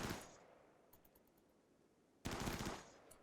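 AK-12 rifle fire in Rimworld with the Combat Extended mod: a short burst at the start, a few faint scattered pops, then a second loud sustained burst near the end, with no talk over it.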